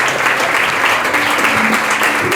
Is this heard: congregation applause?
yes